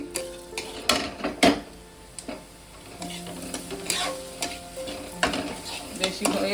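Semolina is stirred in a pan for a palm-milk puli filling, with repeated scraping strokes and utensil clinks against the metal at an irregular pace, close and fairly clear with no talking.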